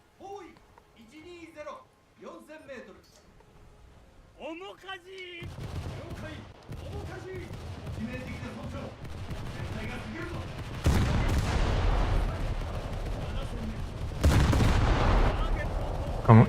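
American 5-inch/38 naval guns in a naval combat video game fire a dense run of heavy booming shots, loudening in later bursts, after a stretch of talking at the start.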